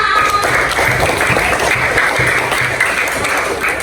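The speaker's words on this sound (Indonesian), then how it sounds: "tepuk tangan dulu buat kelas 5" A roomful of fifth-grade children in an Indonesian primary school classroom claps together in a dense, lively burst of applause that carries on steadily throughout.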